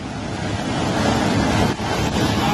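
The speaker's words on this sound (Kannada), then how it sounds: "पुरा ड्याम फुटेर आयो यार" A loud, continuous roar of rushing floodwater from a burst dam on the Koshi River in Nepal, with wind buffeting the microphone, steady and close throughout.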